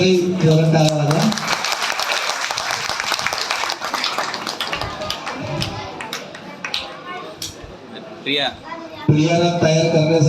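Audience applause at a Buddhist gathering for Ashwin Purnima and Dhammachakra Pravartan Day, dense clapping filling the hall, fading in the middle and swelling again near the end with voices mixed in.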